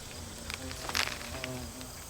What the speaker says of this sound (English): so many bumblebees love this flower